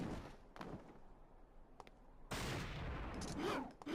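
Gunshots ring out in the action game Devil May Cry 2, a few isolated sharp cracks at first, then a loud, dense burst of rapid continuous gunfire that keeps going to the end.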